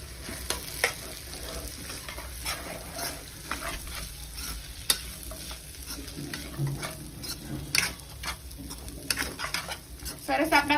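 Poha being stirred with turmeric, coriander-cumin powder and salt in a pan, soft frying hiss under frequent light scraping and tapping of the spatula, close and fairly quiet.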